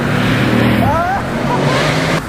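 A Bugatti Grand Sport Vitesse with 1183 horsepower drives on the road, its loud, steady engine roar and drone rising and shifting in pitch, heard close with a faint voice underneath.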